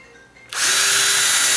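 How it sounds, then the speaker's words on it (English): A power drill with a 1/8 inch bit spins up on high to drill into a door frame: a quiet moment, then a sudden loud, steady whine that holds close and constant to the end. "Put it on high, make sure you're going in forward."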